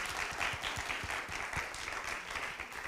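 Applause from the audience at a county political forum, honoring the candidates who attended; steady clapping fills the room for a few seconds with individual hand claps standing out near the front.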